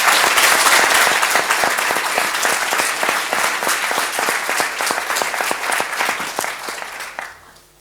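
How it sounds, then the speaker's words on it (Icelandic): An audience at a university graduation ceremony at Bifröst applauds loudly, a dense, sustained clatter of many hands that holds steady before tapering off sharply at the end. "gefum þessum glæsilega hópi gott klapp í lokin."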